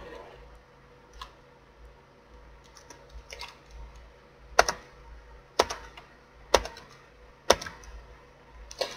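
Computer keyboard typing, with scattered soft key taps building to several sharp, distinct clicks spaced about a second apart, close and clear over a quiet background hum, with no talking.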